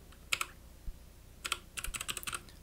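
Quick bursts of keystrokes on a computer keyboard while a search is typed, a short cluster, then a faster run of close, crisp clicks at low volume with no talking.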